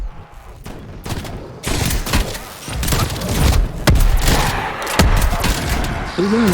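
Tier 3 shotgun blasts in the zombies mode of Call of Duty: Black Ops Cold War, loud repeated booms at irregular intervals amid dense game noise and continuous clatter, with a voice speaking briefly underneath.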